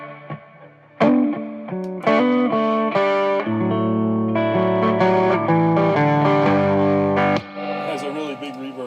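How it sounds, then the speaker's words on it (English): An electric guitar plays through a 1950s tube amp with a big reverb, its chords and notes ringing out with a long, washing decay and slight grit, loud and close throughout. "a really big reverb sound."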